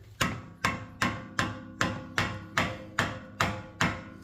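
Hammer blows during repair work on a wrecked 2022 Honda Civic, ten evenly spaced sharp metallic strikes at about two per second, each ringing briefly before the next, close and clear with no talk.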